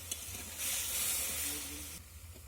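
Water poured into a pan of half-boiled raw green mango being cooked for chutney, giving a loud burst of steady hissing sizzle that fades after a couple of seconds.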